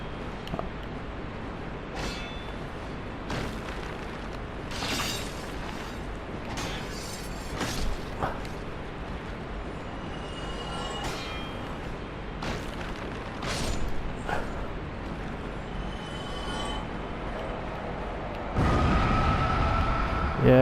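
Boss explosion in the video game Dark Souls, a series of booming bursts and mechanical clanks over steady game ambience, ending in a loud sustained roar, with no talk over it.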